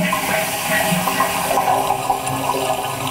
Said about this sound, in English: flush the loo that's in the shower room or bathroom and just listen at the shower